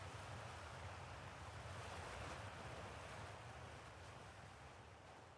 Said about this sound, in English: I think it's an upside down waterfall.